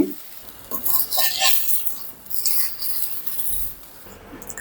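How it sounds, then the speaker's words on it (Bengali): Mustard seeds fry in a pan while being stirred continuously, giving bursts of sizzling and scraping close by that rise and fall in uneven waves, with no talk. "এভাবে আমি একদম কন্টিনিউ নাড়াচাড়া করে নিচ্ছি, না হলে সরিষাটা পুড়ে যাবে"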